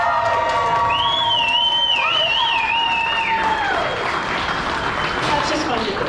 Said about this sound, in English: can I get another really big, obnoxious round of applause for the Martins?